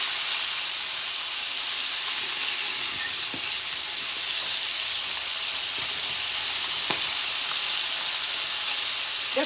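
Chicken livers frying in a large, uncrowded pan give a steady, even sizzle with an occasional sharp pop over a continuous hiss of hot fat.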